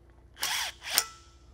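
Two short power-tool whirs come close and fairly quiet as studs are screwed into an engine block during an engine build, each lasting under half a second with a brief pause between.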